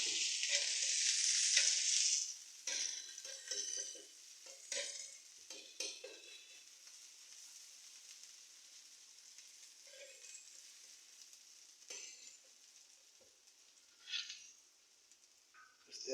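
Food sizzling and being stirred in a home kitchen pan, a loud hiss at the start easing into quieter, intermittent scraping and frying noises throughout.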